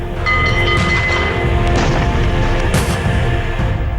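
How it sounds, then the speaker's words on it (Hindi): Several bomb explosions going off one after another near a residential area of a village in Birbhum, West Bengal, heard as a continuous loud, dense roar of blasts with a sharper burst toward the end. "एक के बाद एक कई धमाके हुए"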